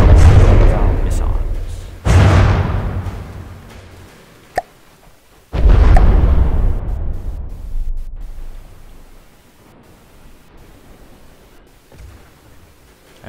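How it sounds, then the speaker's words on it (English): An APS gun on a ship fires in the naval building game From the Depths, heavy booming blasts with long rumbling decays, several shots spaced seconds apart over background noise. "Our new APS gun is doing perfectly."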